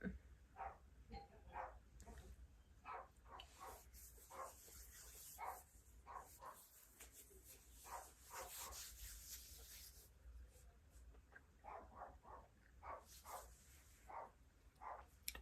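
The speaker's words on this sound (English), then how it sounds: "my dog is barking." A dog barks repeatedly in short, evenly spaced yelps, faint and distant, with a brief rough, noisy stretch midway.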